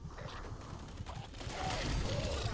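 A Tesla rifle being reloaded in Fallout 76 gives a steady run of mechanical clicks and ratcheting that grows louder in the second half.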